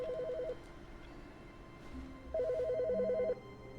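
In The Stanley Parable, a telephone rings electronically in two bursts, a short one at the start and a longer one after a pause, fairly clear over a quiet room ambience.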